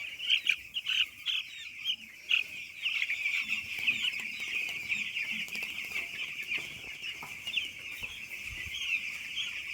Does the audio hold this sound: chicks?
yes